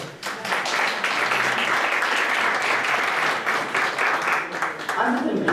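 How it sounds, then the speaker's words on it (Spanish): Sustained applause from an audience at a formal presentation held by a Mexican safety, energy and environment agency, a dense wash of many hands clapping at steady loudness for several seconds. "Les pido un fuerte aplauso,"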